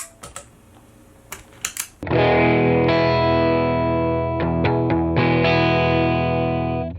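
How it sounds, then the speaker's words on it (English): A few faint taps at first, then a loud, sustained electric guitar chord through a distortion pedal ringing out, with a couple of brief changes before it fades. "show you what the distortion pedal sounds like. just on its own real quick."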